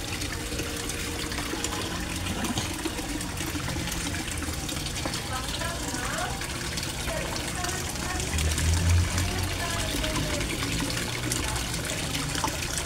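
A small waterfall splashes into a backyard koi fish pond, a steady close rush of falling water with a voice talking over it.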